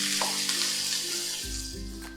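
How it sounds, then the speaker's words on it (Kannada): Onion, ginger-garlic paste and tomato fry on a medium flame for Mysore Mylari Hotel style onion saagu, giving a steady close sizzle with tonal background music running beneath it. "ಮೀಡಿಯಂ ಫ್ಲೇಮಲ್ಲಿ ಫ್ರೈ ಮಾಡ್ಕೊಳ್ತಾ ಇದ್ದೀನಿ"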